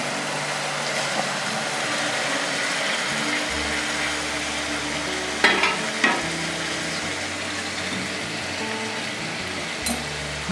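Stuffed gunda (Indian cherry) tumbling into a pan of hot oil with tomatoes for a Gujarati curry, giving a steady, loud sizzle and frying hiss throughout, with a few clatters from the pan midway and no talking.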